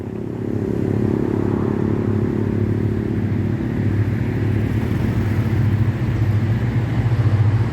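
A diesel train engine accelerating away from a station gives a deep, steady rumble that throbs continuously and loudly, growing slightly stronger over time, with a low mechanical drone and faint rattling, no talking.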